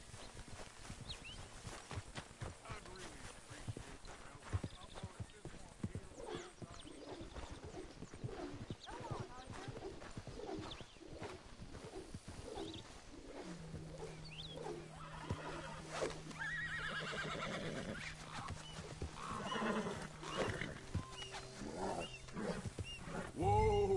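Horse hooves clip-clop steadily in the Red Dead Redemption II video game, joined later by a whinny and a long low tone, under faint game sounds.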